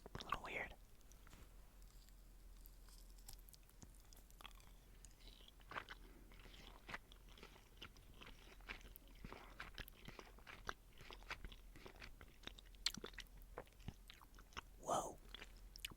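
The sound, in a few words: chewing soft Squashies marshmallow candies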